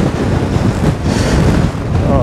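Strong wind roars and buffets against the microphone while cycling with a bike trailer on the way to a ferry, a continuous loud rush with gusty swells.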